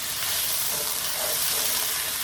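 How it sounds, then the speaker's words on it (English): Philly cheesesteak pasta is stirred in a hot pan, giving a dense, steady sizzle and scraping hiss up close that runs evenly throughout with no talking. "I'm just gonna stir this together"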